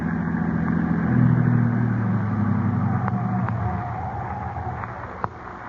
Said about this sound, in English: I'll drive the car off the road.